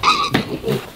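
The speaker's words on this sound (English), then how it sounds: "Oink. Oink." Pig oinking on a pig farm, a short close grunting snort followed by a couple of softer lower grunts, with no talk over it.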